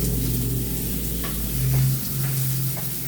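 Eggplant sautéing in a pan for a Filipino ginisang talong dinner, a steady close sizzle and crackle with faint stirring clinks and a low background hum.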